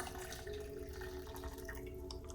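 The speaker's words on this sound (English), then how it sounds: "I'm going to pour the hot water in our tea kettle" Hot water pours into a tea kettle with a faint, soft, continuous trickle and a few light drips, quiet and close, with no talking.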